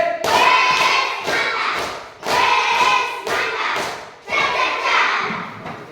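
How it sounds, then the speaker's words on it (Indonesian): A class of students does a rhythmic appreciation clap, with bursts of close, loud clapping in patterned groups and voices chanting along between the clap phrases. "Kalau sudah mantap berarti coba kasih dulu tepuk apresiasi"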